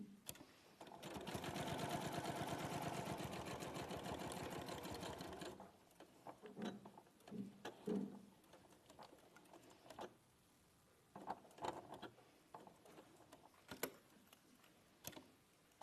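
A sewing machine stitches down the seams of a pocket, running in a steady close whirring burst for several seconds before stopping, followed by softer handling clicks, taps and rustles.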